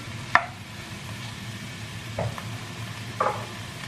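Mushroom sauté being stirred in a pan on the stove, a soft low background sizzle broken by three distinct scraping, clattering strokes of the spoon against the pan, spaced out over a few seconds.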